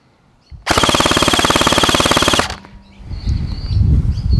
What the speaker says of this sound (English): Now let's measure the rate of fire on full auto.